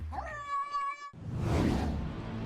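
A large wild cat gives a drawn-out, tonal meow-like call, close and clear, followed by a rougher, breathy growling vocalisation.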